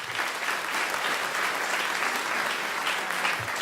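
A graduation-ceremony audience gives a student speaker another round of applause, a dense, even roar of clapping that holds steady for several seconds, moderately distant.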